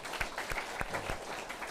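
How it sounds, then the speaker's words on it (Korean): A Catholic prayer-meeting congregation applauds during a Saturday Mass homily, a soft, fairly quiet patter of many hands with a few sharper individual claps standing out. "박수 한번 쳐야 되겠죠?"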